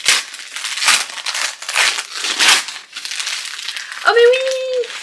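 Gift wrapping paper being torn open close by in repeated loud crinkling, ripping bursts, followed by a brief high vocal sound near the end.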